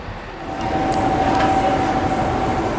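A DRS locomotive-hauled train draws into a station in Cumbria, a steady rumble and low drone swelling after a quiet start, with a thin sustained tone running above it.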